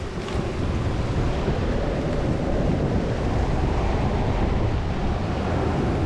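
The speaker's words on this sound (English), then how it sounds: "So this is a waterfall that ends up right at the beach." Waterfall of clear water pouring out onto a beach, a continuous broad roar of rushing water with wind noise on the microphone, steady and close with no talking.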